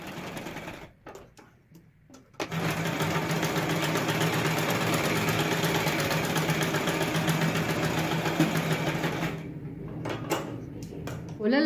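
Sewing machine stitching the sleeves of a half net collar blouse, a close steady whirring run lasting several seconds, with a few handling clicks before it starts and after it stops.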